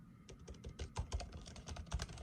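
Fingers type briskly on a MacBook laptop keyboard, a close run of light, rapid clicks and taps with no talking.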